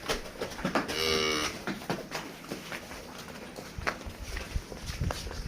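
A dairy heifer on a farm in Ransih Kalan village lets out one short, fairly close moo near the start, followed by quieter shuffling hoof steps and faint farmyard noise.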